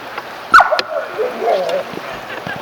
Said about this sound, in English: There's a dog in the water, enjoying himself over there.